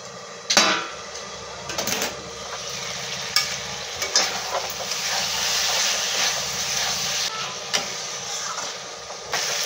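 Chicken pieces are sautéed in a pan for jackfruit chicken curry, with a spatula pressing and scraping over a continuous sizzle and irregular clatters and knocks.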